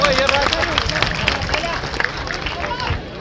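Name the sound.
audience applause for the Shahbaz group students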